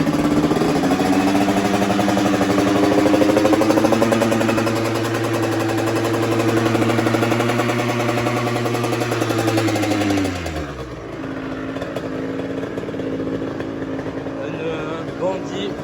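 A Masai 70 moped with an Airsal kit and MVT ignition runs close by at a steady, buzzing two-stroke idle, its pitch dropping as the revs fall partway through before settling at a lower idle, with someone talking over it.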